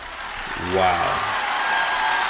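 Brief applause from an audience under a rising spoken exclamation, the clapping steady and moderately loud throughout.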